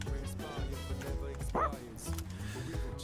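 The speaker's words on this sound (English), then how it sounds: "I'm gonna go hang out with the dog, the bounty hunter." A dog in the video game Persona 3 Reload gives a few short barks and yips with a whimper, mixed with game music and a person talking.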